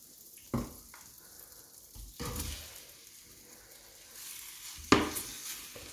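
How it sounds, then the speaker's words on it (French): Beef pieces browning in butter in a hot tagine dish over high heat give a soft, continuous sizzle, broken by a few sharp scrapes and clinks of a utensil stirring against the dish, close but fairly quiet, with no voices. "on va mettre du beurre et on va faire revenir les morceaux de bœuf"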